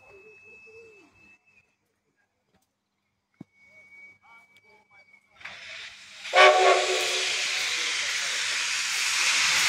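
A steam locomotive on the line from Vakarel to Sofia lets out a loud, sustained hiss of steam and water, preceded by quieter sounds, a brief whistle tone and a sharp knock, with the blast swelling and continuing.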